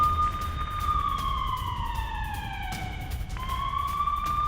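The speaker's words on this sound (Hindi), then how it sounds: "अमृतसर में लगातार सायरन बजाए जा रहे हैं।" A wailing air raid siren in Amritsar rises and falls steadily, sustained without pause, with a second tone joining partway through.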